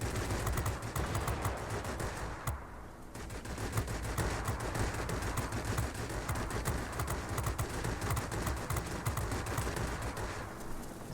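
Aircraft machine guns fire almost nonstop in World of Warplanes, a dense, loud rattle of rapid bursts from a Yak-3 with one short break near the start, then steady firing again.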